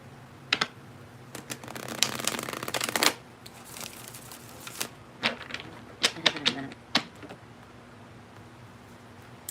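Tarot cards handled and shuffled close by, a dense riffling burst in the middle followed by scattered sharp card snaps and taps, with faint talk in the background.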